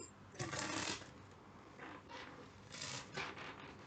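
Tarot cards are shuffled in quiet, close bursts of soft riffling and rubbing, several short rustling passes separated by brief pauses, with no talking.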